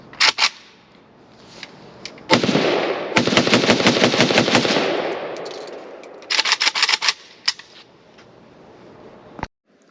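A Romanian Nova CGR AK rifle fired on a range with a Russian magazine: a few sharp single shots, then a long rapid automatic burst, then another quick string of loud cracks and a final lone shot.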